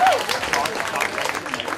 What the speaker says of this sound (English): So a huge round of applause for Rishi, your final presenter tonight.